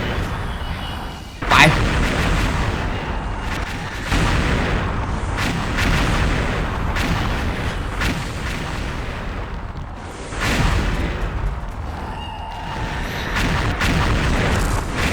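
Gunfire in the online shooter game XSHOT: loud, dense bursts and booming shots that run almost continuously, with sharper blasts near the start and again around the middle.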